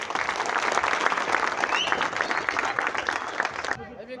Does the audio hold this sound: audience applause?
yes